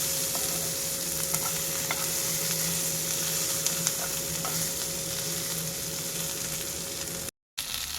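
Tomatoes roast in a pan over a full high flame, giving a continuous close sizzle with small crackles and pops over a faint steady hum, interrupted by a brief gap near the end.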